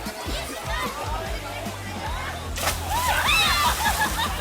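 People jumping one after another into Taklang Anak River in Sariaya, Quezon, with sloshing water and a burst of splashing, while lively voices shout and chatter close by.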